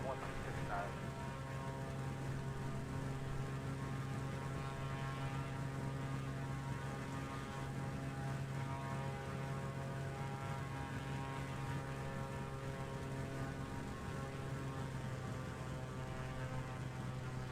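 Airliner, United flight, taking off from runway 07 in a 25-knot wind: a steady, continuous engine drone with a low hum, holding at an even level throughout with no clear build-up.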